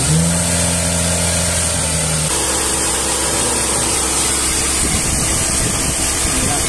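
A Ford Rocam Zetec 1.6 8-valve engine held steady at about 2000 rpm, a loud, continuous mid-pitched hum whose tone drops and roughens partway through, with no talking.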